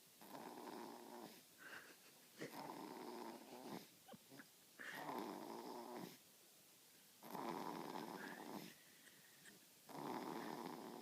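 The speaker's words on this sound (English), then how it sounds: "this baby has fallen asleep in his car seat and he is snoring like a little pug" A baby asleep in a car seat snores in a steady rhythm of about five long, raspy, nasal breaths with short quiet gaps between them, close and soft.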